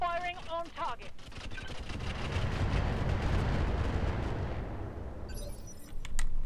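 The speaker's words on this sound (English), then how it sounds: "Let's incendiary him. Firing on target." Incendiary weapons fired at a target in the mech video game Roguetech, a few short sharp sounds giving way to a broad rushing roar that swells and holds for several seconds before a brief sharper tail.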